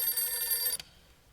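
A telephone bell rings steadily in a music track, then cuts off abruptly just before the clip ends, leaving a quiet low hum.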